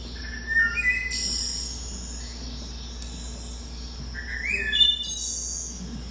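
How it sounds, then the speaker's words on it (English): A wood thrush sings a series of clear, flute-like whistled phrases with pauses between them, fairly faint over a steady low background hum. "I heard the wood thrush. Here's its song."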